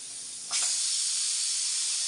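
A pressure cooker cooking dal lets out a loud, steady steam hiss that starts abruptly and holds as a continuous close rush with no talk.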